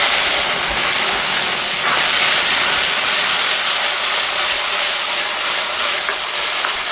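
Chili and garlic stir-fry in hot pork lard for a beef and kale dish, making a loud, constant close sizzle and hiss with no pauses.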